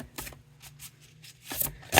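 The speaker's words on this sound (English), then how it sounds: "Give the deck a good shuffle." A tarot card deck being shuffled by hand, a few short soft riffling bursts separated by quiet gaps, close and faint, with no talk.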